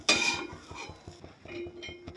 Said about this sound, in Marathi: मी डायरेक्ट मिक्सरच्या भांड्यातच काढते हे